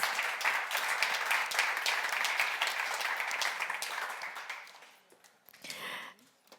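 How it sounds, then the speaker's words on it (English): A festival audience at a digital arts talk claps warmly for about five seconds, then the applause fades away before a brief voice or stage noise near the end. "Please, applause."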